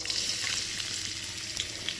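Chopped garlic fries with whole spices in hot oil, a bright steady crackling sizzle with small pops, close up and free of talk.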